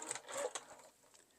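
A sewing machine stitching a coffee cup mug rug, a short quiet whirring burst of needle strokes that fades after about a second.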